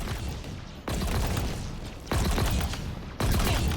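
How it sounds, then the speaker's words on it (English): Uncharged weapon shots in Halo Infinite, three loud blasts spaced about a second apart, each with a long roaring decay that overlaps the next. "No charge up, just shooting shots at it."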